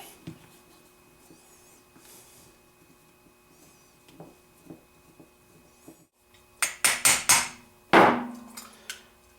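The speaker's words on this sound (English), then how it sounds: "I'll take these screws out" Small metal taps and clicks from screws being worked out of a 1975 Suzuki TC 185 carburetor, close and quiet at first, then a cluster of sharper louder clinks and a rattling knock near the end.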